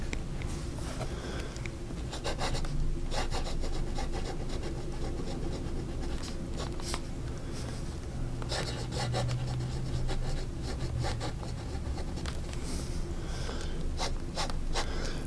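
A Platinum Sheepskin fountain pen with a 14K nib writes on paper, giving a close, soft scratchy rasp in irregular strokes and pauses over a faint background hum.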